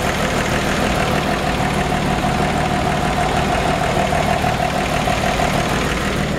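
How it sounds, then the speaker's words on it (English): A 1975 Toyota FJ40 Land Cruiser with a rebuilt engine idles steadily nearby, a continuous even rumble with a faint knocking texture and no voices. "Just left that engine running for a second so you guys could hear it."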